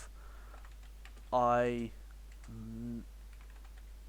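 Light clicks from typing on a computer keyboard run quietly through the clip, partly masked by two short hummed or voiced tones.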